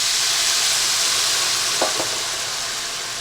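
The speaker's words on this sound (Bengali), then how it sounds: "এবার আমি উষ্ণ গরম জল দিয়ে দিচ্ছি" Warm water poured into pork frying in oil, giving a loud, steady hiss that holds throughout, with a couple of brief clinks partway through and no talking.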